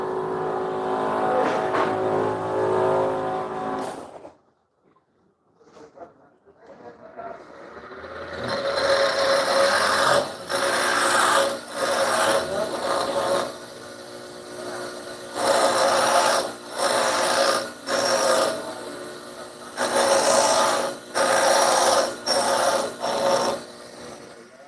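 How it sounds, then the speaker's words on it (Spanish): Power tool polishing the hinge opening on a van door during a repair, starting with a steady whine, then after a pause running in loud repeated bursts with short gaps between them. "vamos nuevamente a pulirle la entrada"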